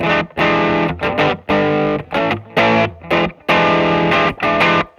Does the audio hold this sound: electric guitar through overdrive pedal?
yes